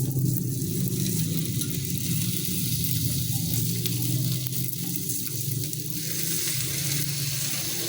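Shrimp sizzle and fry steadily in a hot pan, a loud, continuous crackling hiss with no talk.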